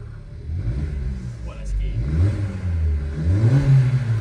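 A standing Suzuki Swift Sport with a 1.4 turbo engine, automatic gearbox and stock exhaust, revved in a few rising pulls, its loud, close engine note climbing and falling repeatedly.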